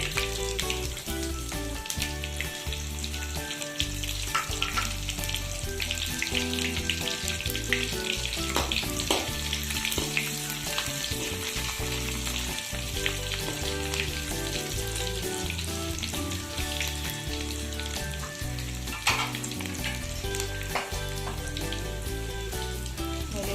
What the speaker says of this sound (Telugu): రెబ్బలు బాగా వేగుతున్నాయండి